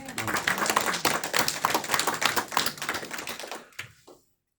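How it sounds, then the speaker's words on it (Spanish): A church congregation claps in fast, dense rhythm for about four seconds. The clapping then stops abruptly, leaving a couple of faint trailing sounds and silence. "Denle un aplauso al Señor"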